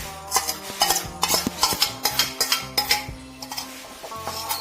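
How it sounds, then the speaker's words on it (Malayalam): A spoon stirs pineapple pudding mixture with melted china grass in a pot, giving rhythmic scraping strokes and light metallic clinks, close and fairly quiet, with no talking. "നന്നായിട്ട് മിക്സ് ചെയ്തെടുക്കാം."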